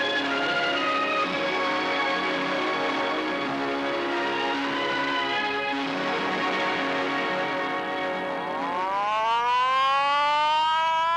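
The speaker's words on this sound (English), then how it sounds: "Each morning, the sirens call his people to work." A loud, sustained factory siren wails continuously, calling workers in the morning at the Lambretta works, its tone rising and sweeping upward near the end, with no talking.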